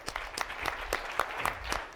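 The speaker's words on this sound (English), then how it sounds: "A big round of applause for Leo Hindery" Conference audience at a governors' winter meeting plenary applauding steadily, dense sustained clapping from a crowd at moderate distance, with faint voices underneath.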